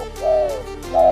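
A spotted dove calls from a tree, two soft, clear cooing hoots in close succession, loud and near with nothing else over them.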